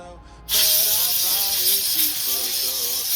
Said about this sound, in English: We're just gonna spray it over there.